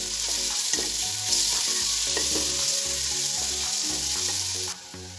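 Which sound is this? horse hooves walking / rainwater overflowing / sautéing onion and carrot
sautéing onion and carrot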